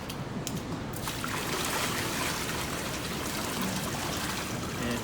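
Water trickles and splashes steadily through a sieve while fossil-bearing sediment is wet screened outdoors, a continuous close hiss of flowing water with no speech.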